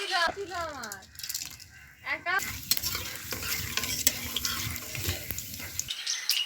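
Whole spices—cardamom, cloves, cinnamon, peppercorns, dried red chilli and bay leaf—frying in hot oil, a steady close sizzle with stirring and rattling, starting after a short stretch where someone talks.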